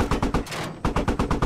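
Rapid automatic gunfire rattles in short, evenly spaced bursts in the Battlefield V shooter game. The shots are loud and close, with one brief break in the middle before the fire resumes.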